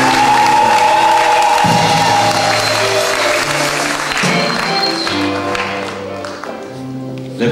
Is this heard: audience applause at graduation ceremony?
yes